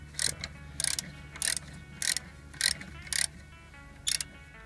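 A ratchet with an Allen key bit turns out rear brake carrier bolts, giving about eight bursts of rapid close clicking spaced roughly half a second apart.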